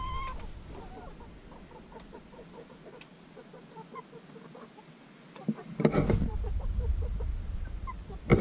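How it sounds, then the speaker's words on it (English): Backyard chooks cluck repeatedly in a steady scatter of short calls, fairly close, with a louder rustling burst near the end; no talking. "While I'm at it, you can meet my chooks"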